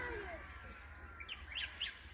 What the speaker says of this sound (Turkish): sessiz olun, kuşları dinleyelim